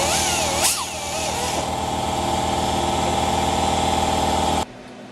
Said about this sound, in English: We're going to go in and grind down the metal to weld.